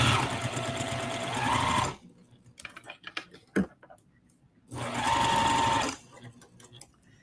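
A sewing machine stitches a quilt block in two steady bursts of about two seconds each, loud and close, separated by a quieter stretch of small clicks and handling noises.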